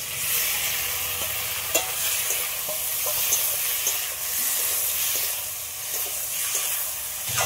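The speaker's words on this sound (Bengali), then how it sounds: "পটল আর আলুটা মশলার সাথে মিনিট 2 মতো একটু কষে নিয়েছি।" Fried pointed gourd and potato sautéed in masala in a pan, a constant close sizzle broken by repeated scraping stirs at an irregular rhythm, no voices.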